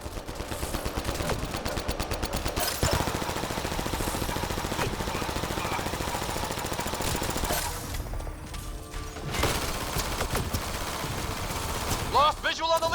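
Rapid gunfire crackles almost nonstop through a Mass Effect: Andromeda firefight, dense automatic bursts and sharp shots layered with game effects, loud and close, while voices call out during the fight.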